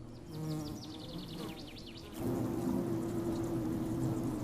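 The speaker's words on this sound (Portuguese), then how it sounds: "as abelhas forrageiras voltam à sua colmeia" Foraging honeybees returning to the hive make a steady, dense buzzing drone close by, with individual bees weaving pitch as they fly past, growing fuller and louder about halfway through.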